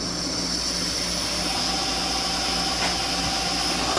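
A milling machine spindle spins up to 1300 rpm in a shop, giving a steady, fairly loud mechanical hum with a constant tonal whine that runs unbroken, with no talk.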